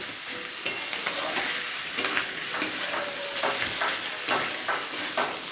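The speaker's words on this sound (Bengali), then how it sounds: "আগে মশলা দিয়ে ভালো করে কষবো" Spices fry and get stirred in a pan for a spring onion curry, an even close sizzle punctuated by repeated scraping and tapping strokes of a spoon against the pan, with no voices.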